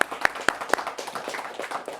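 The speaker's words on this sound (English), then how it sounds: "Give yourselves a round of applause." A few sharp claps ring out at the start, then a softer patter of scattered clapping from a small group follows, at a quiz bowl competition.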